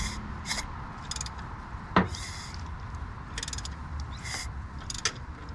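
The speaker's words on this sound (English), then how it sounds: "pistons moving around." Inside a 2006 Chrysler 300 SRT8 engine, pistons and valves shift as it is turned by hand, giving irregular metallic scrapes and clicks with one sharp tap partway through, close and quiet, without talking.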